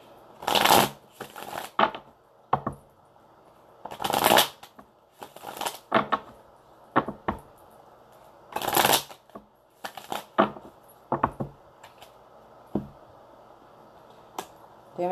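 A deck of tarot cards being shuffled and cut by hand, with repeated riffling bursts and quick snaps close up, scattered through the clip alone with no talk.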